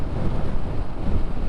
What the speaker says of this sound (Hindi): इतनी तेज़ हवा है पूछो नहीं